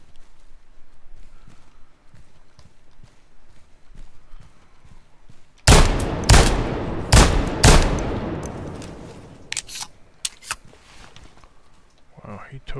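Sudden close burst of gunfire in the close-quarters shooter Ground Branch, several sharp loud reports clustered together after a quiet stretch, followed by scattered fainter shots and voices.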